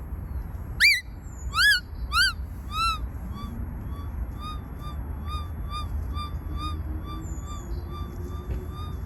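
Several sharp warbling electronic tones from a Nexus metal detector with a 20-inch coil sweep up and down near the start, then a softer, steady series of repeating beeps pulses over a small target with faint background hiss.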